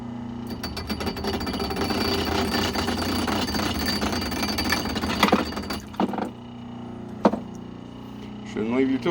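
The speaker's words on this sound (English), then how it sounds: "Let's run it on the grinder a little bit, just make it look a little prettier." A bench grinder runs steadily against the bit of an old double-bit axe head, a continuous loud whine with rougher bursts of contact, clattering and clunks near the end.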